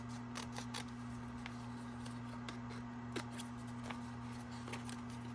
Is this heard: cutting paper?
yes